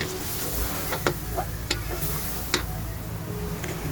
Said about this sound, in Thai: ผัดกระเทียมกับเนยให้หอมเลยเนี่ยคือแบบ หอมมากคือแบบจะกินแล้วตอนนี้ผัดเนยกับกระเทียมเนาะ